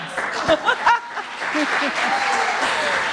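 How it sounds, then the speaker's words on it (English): Audience at a Women's History Month celebration at East Bay applauds, opening with a few louder claps and cheers, then settling into steady, moderately loud clapping with some talk mixed in. "Can we have another round of applause?"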